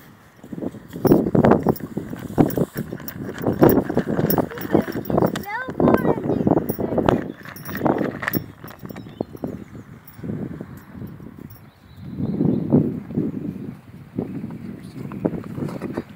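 Horses with a week-old foal walking outdoors, hooves clip-clopping in irregular bursts under frequent talk and some wind noise on the microphone.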